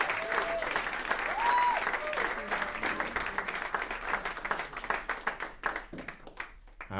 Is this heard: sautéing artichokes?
no